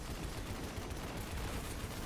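A hand cannon fires in the video game Destiny 2: Shadowkeep, producing dense, noisy gunfire that runs continuously through the short stretch, loud and without speech.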